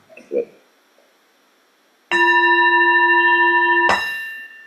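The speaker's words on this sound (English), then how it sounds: "You gonna ring the bell or something?" A meditation bell rung at the close of a Buddhist practice session gives one clear, sustained ringing strike with bright overtones that hangs for about two seconds, followed by a second sharp strike, after a faint voice.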